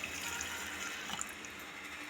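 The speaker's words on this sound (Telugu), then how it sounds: "1 లీటర్ నీళ్ళు వేసుకుంటున్నాను." Water running into a bowl while making jelly for a glass fruit cake, a steady close splashing pour throughout with no talk.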